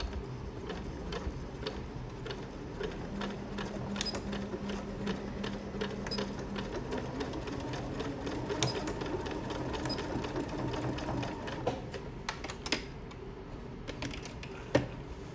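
A sewing machine stitches straight seams on inkle loom weaving, its rapid mechanical ticking running steadily and close up with brief pauses and clicks toward the end.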